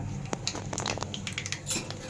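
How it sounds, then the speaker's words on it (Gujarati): Mustard seeds drop into hot oil for tempering, bringing scattered pops and crackles over a low sizzle, with light metallic clinks of a spoon against the pan, close and moderately quiet. "જો આપણે તેલ આવી ગયું છે એની અંદર આપણે રાઈ એડ કરી દઈશું"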